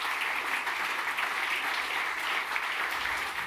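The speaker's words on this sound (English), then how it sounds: "Make it on the stage, big clap." Audience at a Northern Land Council event applauds as a chairman is welcomed onto the stage, steady clapping from a large crowd for several seconds, fairly distant and even.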